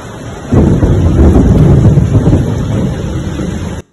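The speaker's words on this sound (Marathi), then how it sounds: "ढगांचा गडगडाट देखील सध्या निफाडमध्ये होतोय" Thunder rumbles loud and close during a cloudburst-like heavy downpour in Niphad, Nashik, a deep rolling roar over steady rain and wind buffeting that cuts off abruptly.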